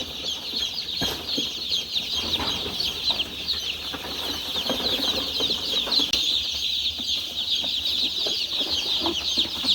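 Newly hatched yellow chicks on rice husk bedding in a poultry brooding house keep up a dense, continuous chorus of high peeping, with scattered soft flutters and scuffles close by and no talking.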